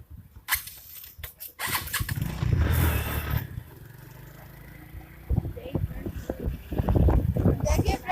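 A motorcycle engine starts and runs during a ride along a village road, with speech over the broadband engine noise and bursts of louder revving toward the end.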